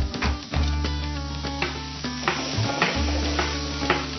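Food sears in a hot pan with a steady sizzle. Clanks and scrapes of cookware break in now and then, and no voice is heard.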